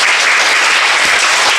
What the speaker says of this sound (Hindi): एक बार उनके लिए जोरदार ताली बजाएं।